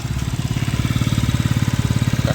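A Yamaha Jog SA39 scooter engine idles steadily close by, its low putter pulsing in an even, rapid rhythm with no voices over it.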